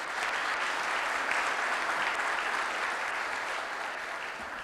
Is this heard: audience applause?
yes